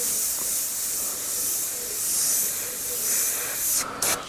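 An airbrush sprays paint with a continuous soft, airy hiss that swells and eases as the brush is worked, ending with a few brief sputters and cut-offs.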